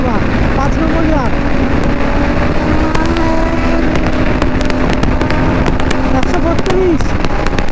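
A modified Bajaj Pulsar NS 200 motorcycle accelerating hard in fifth gear, its engine a loud, steady, continuous roar with rising whine tones and wind rush throughout.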